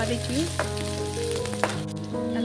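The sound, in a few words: onions frying in oil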